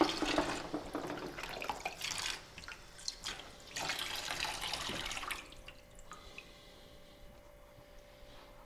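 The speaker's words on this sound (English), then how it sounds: "I'm going to rinse this off, I'm gonna hang it up to dry" Water runs and splashes from a tap as a gum over platinum photographic print is rinsed in a sink, a steady close rush that thins out toward the end with a faint tone lingering.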